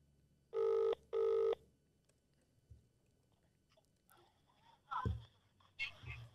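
A phone-a-friend call placed on speaker rings twice, two loud, evenly spaced electronic ring bursts, followed by faint handling clicks and a brief crackle of the line.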